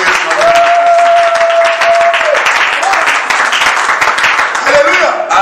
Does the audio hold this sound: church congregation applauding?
yes